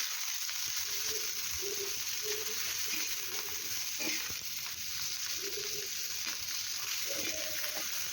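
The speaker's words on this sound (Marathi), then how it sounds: "आता या मिरच्या आपण या तेलामध्ये टाकून घेऊया आणि सर्व साईडनी या मिरच्या या तेलामध्ये छान अशा फ्राय आपल्याला करून घ्यायच्या आहे" Whole green chillies frying in hot oil over a medium flame, with a steady broadband sizzle running throughout and a few soft stirring knocks, close and moderately loud, with no voices.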